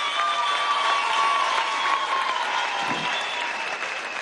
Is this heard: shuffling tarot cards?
no